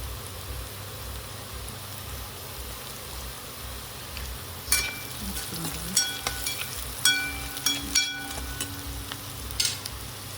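Sliced onion and green chili frying in a pan with a sprinkle of turmeric, hissing in a soft, constant sizzle, joined midway by clinking and scraping spoon strokes against the metal.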